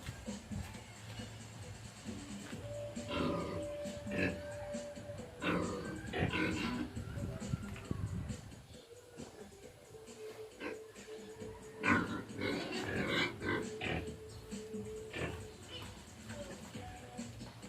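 Pigs grunt and snort in short bursts at close range during bathing and feeding on a pig farm, with clattering and scuffling noises around them and a faint steady whine underneath.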